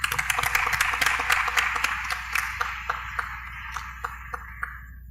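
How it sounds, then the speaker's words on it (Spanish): Audience applause at an international arbitration congress, a dense wash of clapping that thins and fades into scattered individual claps toward the end. "Aplauso."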